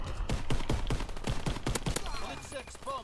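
M1 Garand rifle fire in Call of Duty WWII, a rapid string of sharp shots over the first two seconds, followed by fainter game effects under a voice.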